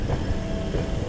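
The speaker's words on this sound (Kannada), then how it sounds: "ಇದು ಲೋಕಲ್ ಟ್ರೈನ್." A local train at Tambaram railway station in Chennai, a steady close rumble of rolling carriages with faint wheel clatter, continuous and loud with no talking.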